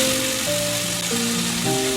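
Masala for aloo baingan fries in a pan over a low flame with a soft, even sizzle. Sustained musical tones play on top of it throughout.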